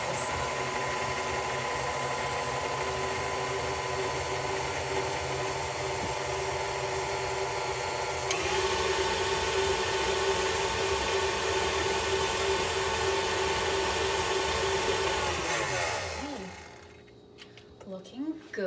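Electric mixer whirring through chocolate chip cookie dough, a steady buzzing motor hum held for about fifteen seconds, shifting slightly in pitch midway, then winding down and stopping near the end.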